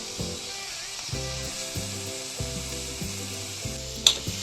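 Grated crushed coconut fries with chopped vegetables in a pan for an Onam thoran: a continuous sizzle with repeated rhythmic scraping strokes of stirring, close and clear, with one sharp clink near the end and no speech.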